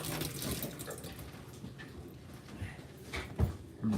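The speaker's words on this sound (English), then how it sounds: "Is there water in the sink?" Water runs from a sink faucet in a bathroom being disassembled, a steady noisy splash throughout with occasional knocks and clunks nearby.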